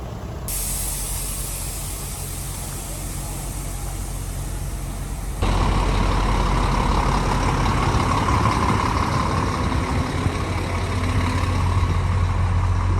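Trucks stuck in a long highway traffic jam in Brazil en route to Goiania, giving a steady broadband engine rumble and hiss that grows louder partway through as a nearby vehicle idles close by.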